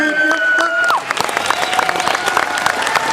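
Audience applause after a late-night blues concert in Erfurt, with dense clapping and some cheering filling the whole stretch, a sustained tone fading out near the start.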